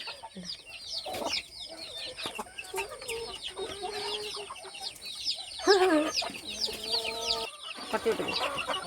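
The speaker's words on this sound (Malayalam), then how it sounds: "ഈ ചെറിയ കോഴിക്കുഞ്ഞുങ്ങൾ ഇപ്പോൾ ഒരു പതിനഞ്ചെണ്ണം ഉണ്ട് കേട്ടോ" Dense, continuous chirping of many baby chicks, nearby and lively, with occasional lower clucks and rustling mixed in.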